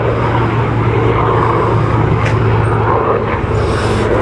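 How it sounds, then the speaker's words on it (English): Helicopters pass overhead as a steady, loud low rotor drone that holds throughout, with faint chatter and other noise mixed underneath. "There goes the helicopters."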